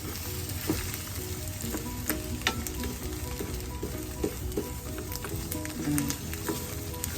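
Egg fried rice being stir-fried in a pan, a steady close sizzle with scattered crackles and clinks of stirring, no voices.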